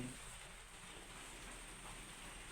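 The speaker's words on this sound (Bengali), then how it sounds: "আজকে বাইরে বৃষ্টি পড়ছে ঝমঝমিয়ে" Steady rain falls outside in a continuous, even hiss, fairly faint and unbroken, with no voices.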